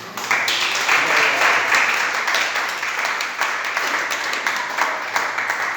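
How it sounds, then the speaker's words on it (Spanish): A church congregation applauds together during a Spanish-language worship service, a dense, sustained wash of clapping that holds steady for several seconds at close range, with no talk over it. "¿No le quiere dar un aplauso al Señor por eso?"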